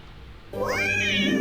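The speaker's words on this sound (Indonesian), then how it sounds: "Ternyata ada anak kucing yang sangat mungil dan menggemaskan" A kitten lets out a single high, rising meow, close and clear against a quiet background.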